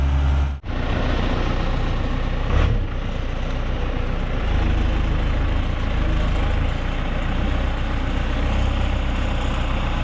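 An Allis tractor engine backs out at a farm, ready for loading onto a trailer. It gives a steady, close, heavy rumble that runs unbroken throughout, with no one talking.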